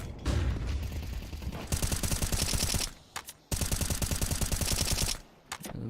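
Rapid automatic gunfire in a Counter-Strike 2 match comes in two long, loud bursts of fast shots at close range. They are separated by brief pauses and single shots, and no one speaks.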